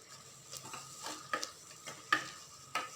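A large bunch of coriander leaves sautés in a pan while being stirred, giving quiet sizzling broken by about half a dozen soft scrapes and taps of a utensil against the pan.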